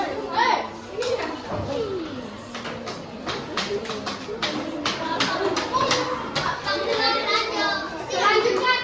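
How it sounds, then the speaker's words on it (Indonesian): A classroom group breaks into applause for group 3, a dense patter of many hands clapping at close range with children's voices chattering over it for several seconds. "Tepuk tangan dulu buat kelompok 3"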